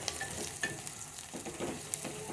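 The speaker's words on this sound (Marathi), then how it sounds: "लसूणचा कच्चापणा जाऊपर्यंत लसूण चांगला परतून घेऊया।" Garlic sautéing in a pan over low to medium flame, a gentle steady sizzle with scraping stir strokes and a few faint clinks, close and quiet.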